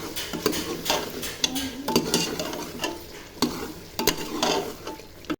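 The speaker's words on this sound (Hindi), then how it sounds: "और फिर इसको इसमें मसाले में अच्छे से भूनना है।" Goat liver pieces are fried and stirred in spice masala with garam masala, giving a loud sizzle broken by repeated scraping and clanking strokes of a spatula against the pan, close up and without talk.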